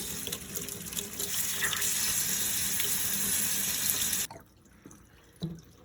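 Water pours steadily as a final rinse over rust-treated screws and parts from a 1972 Land Rover Series 3, a continuous gushing splash that stops abruptly, followed by a few faint drips and small knocks.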